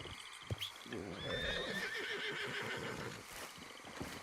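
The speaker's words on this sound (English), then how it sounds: "Where's my horse?" In the video game Red Dead Redemption 2, a horse neighs and whinnies loudly and close by, with hooves clip-clopping and small movement sounds around it, and a voice speaking briefly.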